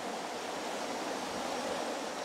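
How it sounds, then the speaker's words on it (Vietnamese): A stream swollen and muddy after heavy rain rushes in a steady, soft broadband wash, continuous and fairly faint, with no voices. "nhưng mà suối chảy nó rất là đẹp nha bà con và anh chị"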